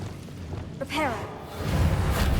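A Reparo repair spell cast in the Hogwarts Legacy video game, a short shimmering magical swish with rising tonal sweeps that lasts about half a second, followed by low rumbling game ambience.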